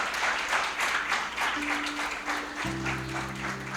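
Congregation in a Quadrangular church clapping steadily at moderate volume, with a sustained organ or keyboard tone entering partway through and building into chords.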